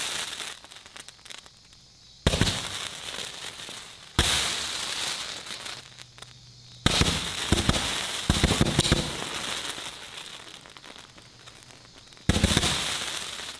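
About 100 car batteries wired in parallel and shorted against metal throw out loud bursts of crackling sparks. The sparking comes in several sudden outbreaks with quieter gaps between them, close and harsh like fireworks going off nearby.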